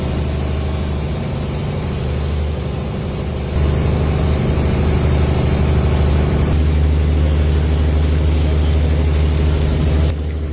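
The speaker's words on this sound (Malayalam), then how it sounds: "ഓളങ്ങളെ കീറി മുറിച്ചുകൊണ്ട് നമ്മുടെ വള്ളം മുന്നോട്ട് കുതിച്ചുകൊണ്ടിരിക്കുന്നതാണ് ഈ കാണുന്നത്" A fishing boat's engine runs at speed while the boat cuts through the waves, giving a loud, steady, continuous roar with heavy low rumble that swells louder partway through, with no talking.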